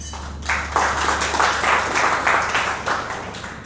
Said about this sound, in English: let's give round of applause for Mr. Lee Yang Peng.